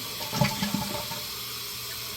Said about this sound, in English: The water comes directly out of here when it is flushed.